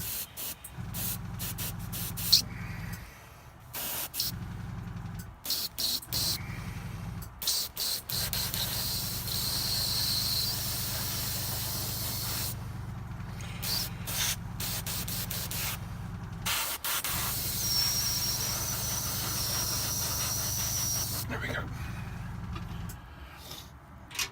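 An aerosol can of varnish sprays in several hissing bursts of varying length over a painted miniature bust, sealing non-metallic metal paintwork, with short pauses between the sprays.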